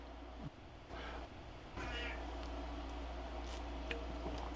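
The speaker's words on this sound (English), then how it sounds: "Did you hear that meow?" A cat meows a few times, faint and somewhat distant, over a steady background hum.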